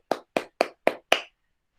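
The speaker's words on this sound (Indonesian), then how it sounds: "Semuanya anak-anak Bapak kita kasih tepuk tangan dulu untuk kelompok 2." A classroom of students claps in unison for a student group: five sharp, evenly spaced claps in a quick steady rhythm, then silence.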